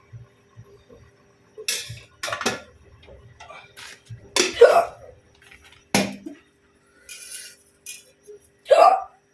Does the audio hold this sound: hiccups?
yes